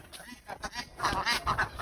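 Ducks kept for sale at a market quack close by in short, uneven bursts that grow louder and busier toward the end, with faint background voices.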